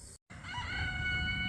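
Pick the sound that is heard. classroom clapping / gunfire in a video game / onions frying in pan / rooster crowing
rooster crowing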